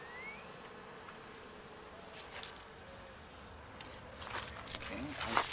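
Honeybees hum steadily through a winter hive inspection, a faint continuous drone with scattered handling noises and brief louder rustles near the end, and a person talks quietly over it.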